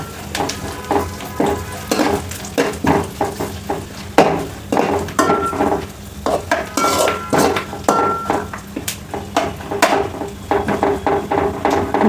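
Onions fry and are stirred in a pan alongside coconut for a North Karnataka churumuri snack, with a spoon repeatedly scraping and clattering against the metal over a soft sizzle, close and without speech.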